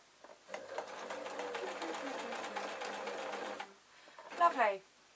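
Sewing machine stitching the waistband of an adult Scottish kilt, a steady close run of rapid stitching lasting several seconds, then stopping as a voice speaks briefly.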